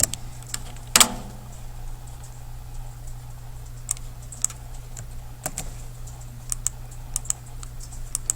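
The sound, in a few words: typing on a computer keyboard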